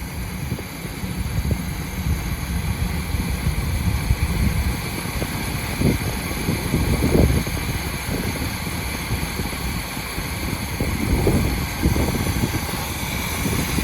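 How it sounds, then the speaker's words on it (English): A 1976 Buick Skylark engine with a freshly rebuilt carburetor at low idle, a steady close rumble with uneven, stumbling pulses from a misfire, under outdoor wind noise and without speech. "It's at a low idle. Still running. You can definitely tell some misfire though."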